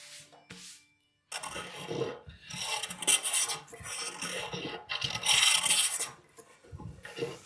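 A hand plane is pushed across a wooden workbench top in repeated strokes, each one a close, dry rasping shave. Several bursts of uneven length run back to back after a brief quiet start.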